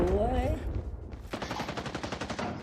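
Rapid automatic gunfire in Rising Storm 2: Vietnam, a dense burst of evenly spaced shots that starts suddenly and runs on after a brief moment of voice and game sound.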